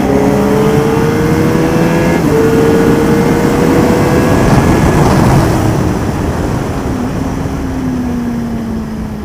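A car accelerates hard around the Le Vigeant race circuit, heard from on board. The engine note climbs loud and strong, breaks at a gear change into third, then pulls on and eases slightly toward the end.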